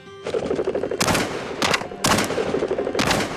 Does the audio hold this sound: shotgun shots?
yes